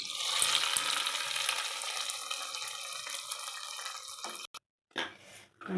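Hot tempering with curry leaves sizzles loudly as it is poured into a pressure cooker of gongura dal, a bright steady hiss that cuts out abruptly before a brief final burst.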